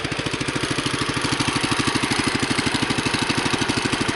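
A Husqvarna 600 engine idle chugs along evenly with a fast regular pulse, close and moderately loud, with no voices.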